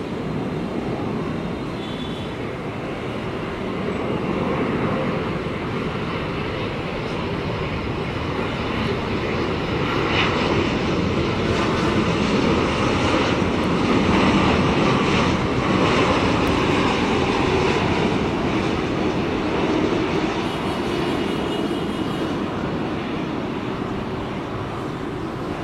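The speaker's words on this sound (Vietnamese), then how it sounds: "Bây giờ mời mọi người chiêm ngưỡng hạ cánh của chiếc Boeing 787 này nha." A Vietnam Airlines Boeing 787 airliner landing, heard as a loud, sustained broadband engine roar with rushing noise that swells slightly mid-pass and stays steady, with no one speaking.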